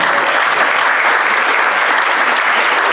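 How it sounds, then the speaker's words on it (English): Loud, dense audience applause at a Rotary club meeting, many hands clapping continuously and evenly close by, with a faint murmur of the crowd underneath. "Give him a round of applause."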